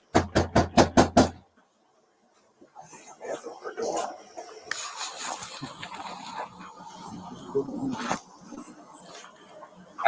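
A series of about six sharp, evenly spaced knocks on a door, loud and close, captured in recorded police footage; afterwards muffled voices talk amid background noise.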